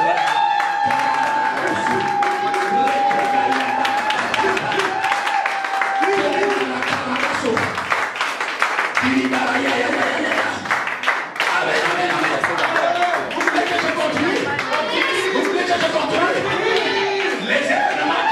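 Church congregation applauding and acclaiming at a worship service in Montréal, with steady clapping and cheering voices throughout, a crowd sound that stays loud for the whole stretch while people talk over it.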